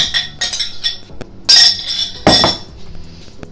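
Cake batter of oil, egg and vanilla being mixed in a bowl, with scattered clinks and taps of a utensil against the bowl and a couple of louder scraping knocks.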